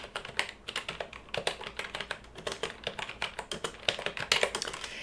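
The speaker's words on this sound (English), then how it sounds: "I'm going to type them down on this keyboard" Rapid typing on a computer keyboard sounds close and crisp, a steady stream of sharp key clicks in quick irregular bursts with brief pauses, heard alone in a quiet indoor setting.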